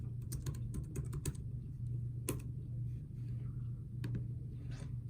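Rapid bursts of keystrokes on a computer keyboard while a password is typed, several quick clusters of clicks over a steady low hum, with a pause between bursts.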